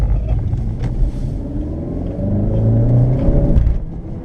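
A 2017 Honda Civic Hatch Sport with a manual gearbox spins its wheels on winter snow, the engine droning and rising in a steady loud rumble for a few seconds before easing off.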